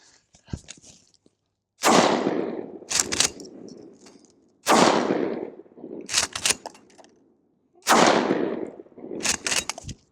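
Three loud 12 gauge blasts from Challenger mini shells loaded with #4 buckshot, spaced about three seconds apart, each a sharp crack with a ringing echo and a few smaller clanks after it, no talking.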